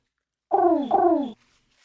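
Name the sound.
pigeon cooing sound effect played from a button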